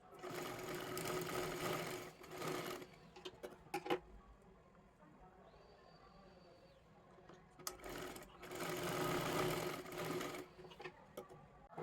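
A sewing machine stitches blouse fabric for a square-neck kathpadar saree blouse in two fast, whirring runs at the start and end, separated by a quieter pause with small handling clicks.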